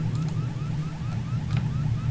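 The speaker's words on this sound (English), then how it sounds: "while you listen to the lovely sounds of that car alarm going off" A car alarm blares continuously, cycling through repeated warbling, sweeping tones at a steady pace, loud and close with no talk over it.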